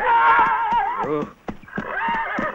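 A horse neighs loudly and close, with two long whinnies separated by a brief pause and some breathy snorts between them.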